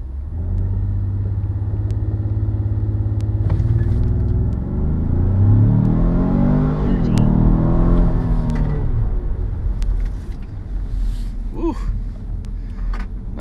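A twin-turbo all-wheel-drive Infiniti Q50 launches and accelerates hard, its engine note rising loud and close through sweeping revs and gear changes, then settling as road rumble continues.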